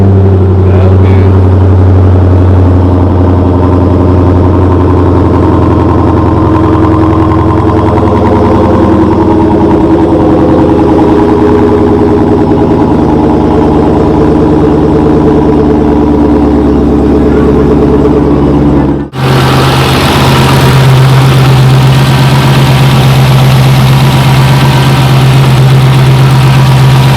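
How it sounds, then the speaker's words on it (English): A new sports car idles with a steady deep exhaust note, loud and close, holding an even rumble throughout before a brief dip and a slightly brighter, rougher tone in the final seconds. "The car sounds quiet, don't hear any nonsense going on"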